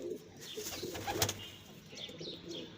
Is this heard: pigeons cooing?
yes